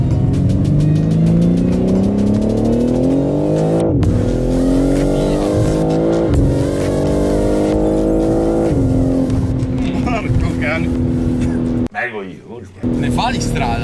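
A tuned BMW M3 Competition on a test drive accelerates hard through several gears, its engine note climbing and dropping at each shift, loud and close from inside the car, ending in a brief quieter lull.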